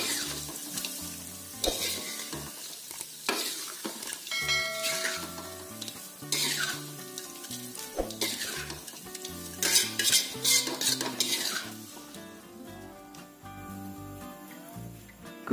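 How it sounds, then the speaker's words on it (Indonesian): Steady oil sizzling and crackling throughout as grasshoppers fry, with frequent metal utensil scrapes and clinks against the pan as they are stirred. "Goreng belalang sampai benar-benar kering"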